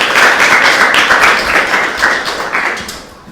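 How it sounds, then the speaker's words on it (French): Loud, close applause from the audience at a screening and debate event: dense clapping with some heavier taps that gradually thins and fades over a few seconds. "je vous demande d'applaudir pour lui"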